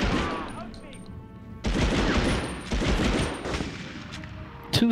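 Gunfire in the Medal of Honor sewer chase level as soldiers are shot: sustained bursts of rapid shooting, loud and dense, with sharp sounds near the end and faint game voices.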